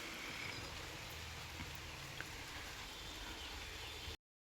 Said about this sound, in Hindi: बहुत बारिश हो रही है सुबह से ही